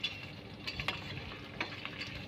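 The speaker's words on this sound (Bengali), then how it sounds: "এবার সবগুলো উপকরণ ভালোভাবে নেড়ে চেড়ে ব্রাউন কালার করে নিব" Onion and ginger sizzle in oil in a wok while being stirred, a steady frying hiss punctuated by several light scrapes and taps of the spoon against the pan.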